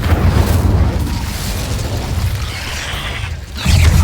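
A fiery Incendio spell cast in a wizarding video game set in a shadowy manor, heard as a loud, sustained rumbling whoosh with deep booming low end that swells again at the close, no talking over it.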